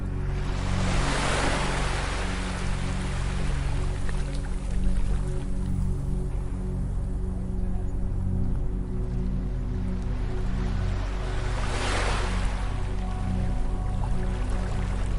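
Ocean waves on a beach, with a continuous roar of surf that swells in two broad crashes about ten seconds apart, steady and fairly loud with no one speaking.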